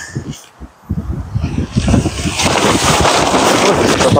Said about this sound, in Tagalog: Hangin yun. Yung impact ng hangin niya.